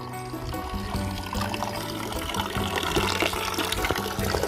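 Villagers scoop and pour well water, a continuous splashing and trickling stream that runs steadily throughout at close range, with clattering containers and busy background noise mixed in.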